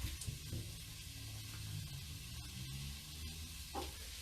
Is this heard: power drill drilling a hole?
no